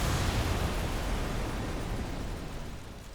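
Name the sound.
explosion sound effect, Chernobyl reactor explosion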